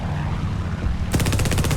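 Spitfire Mk IIa machine guns firing in a combat flight game, a short rapid burst that starts partway through over a steady engine drone, loud and close.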